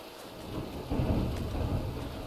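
Rain and thunder in the video game PUBG: a steady wash of rainfall with a deep rumbling thunder swell, fairly quiet and continuous, no voices.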